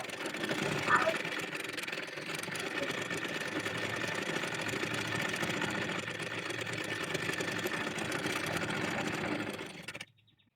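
A sewing machine stitches a folded hem on a cotton gauze baby frock, running steadily and close for about ten seconds before stopping abruptly.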